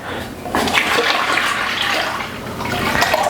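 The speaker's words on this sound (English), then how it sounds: "I'm going to add some more liquid to it just to bring it up to the 23" Water pours steadily into a plastic beer-brewing fermenter, a loud, close, continuous gushing splash that starts after a brief quiet moment and runs without talk.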